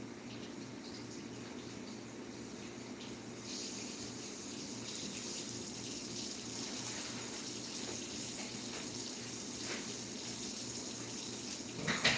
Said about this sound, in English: sometimes I don't even, you know, rinse the quinoa, but I will today